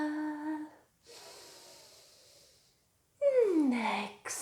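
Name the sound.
inhaling deeply during a yoga stretch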